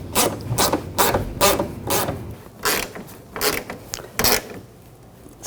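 Ratchet tightening a nut on a fuel tank strap of a 2014-2020 Nissan Rogue: about ten loud, close bursts of rapid clicking in an uneven rhythm, with short pauses between strokes and no talking.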